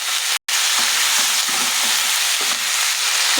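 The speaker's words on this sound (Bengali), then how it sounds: "এখন আমি ভালো করে নাড়াচাড়া দিয়ে নিই" Vegetables stir-frying with garlic, ginger, turmeric and salt give a loud, continuous close sizzle in the pan, with intermittent scraping strokes of the stirring spoon and a brief cut near the start.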